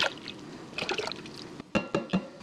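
Milk mixture for L. reuteri cultured dairy yogurt is poured into a container, making soft liquid splashes and trickles, then a few distinct drips and glugs near the end, close and fairly quiet.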